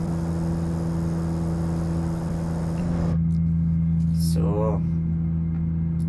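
The engine of a Trabant 601 Kombi estate labouring uphill, a steady droning hum with a strong low tone that carries through the whole stretch, while a person speaks briefly over it near the end.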